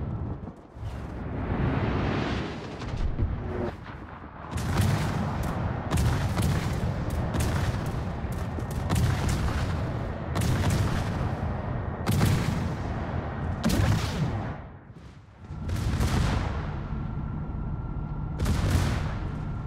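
A Tier 10 HMS Conqueror battleship fires its guns at an enemy warship in World of Warships, a run of booming salvos in repeated heavy bursts over a constant low rumble.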